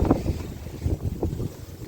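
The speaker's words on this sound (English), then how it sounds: "It's always windy when I need to prime or spray." Gusty wind buffets the microphone in low, uneven rumbles that rise and fall throughout.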